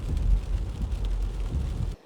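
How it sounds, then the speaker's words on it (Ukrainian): Steady rain falling in the lakeside town of Menaggio, Italy, a dense low rumbling wash with some wind noise, continuous and fairly loud, no voices, cutting off abruptly at the end. "Тут все ще йде дощ, як бачите"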